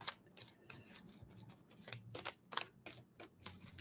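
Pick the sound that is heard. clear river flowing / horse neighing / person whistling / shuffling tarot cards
shuffling tarot cards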